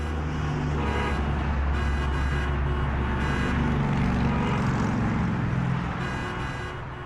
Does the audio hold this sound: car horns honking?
yes